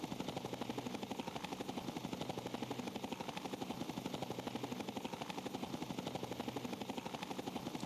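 A V-22-like tiltrotor aircraft flies in the Fallout New Vegas game, giving a steady, rapid rotor chop over a constant engine drone, loud and unbroken throughout with no talking.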